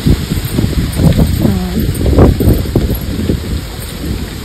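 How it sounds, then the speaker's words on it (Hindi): Strong wind gusting outdoors, roaring and buffeting the microphone with rustling bursts, loud and continuous across the whole stretch, with a voice speaking faintly underneath. "हवा चल रही आज ज्यादा."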